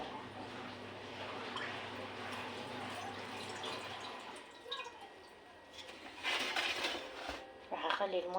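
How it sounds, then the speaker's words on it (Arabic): Water poured over beetroot for quick pickles, a soft trickling and splashing that turns brighter and louder in the last seconds, following a quiet low hum. "راح اخلي فوقها بس المي"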